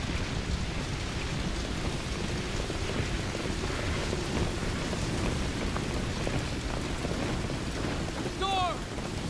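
In Call of Duty: Modern Warfare 2, heavy rain pours steadily in a thunderstorm, a dense roar with low rumbling that holds loud and constant throughout.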